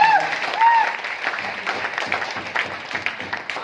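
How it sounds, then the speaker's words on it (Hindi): Audience at a leadership training camp in Agra claps in a sustained, fairly loud round of applause, with a brief voice or whistle-like tone near the start. "जोरदार ताली होना चाहिए"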